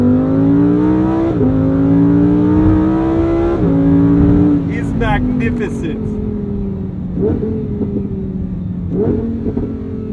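A Lamborghini Huracán Sterrato, the off-road version, revs hard through its gears close by, pitch climbing in strong pulls and dropping at each shift several times, with a person talking briefly over the engine.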